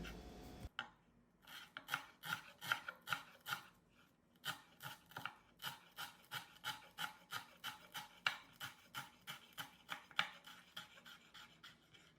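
Rapid, steady knife chops through parsley on a cutting board, dozens of crisp strikes in a quick rhythm, close by, with no talking.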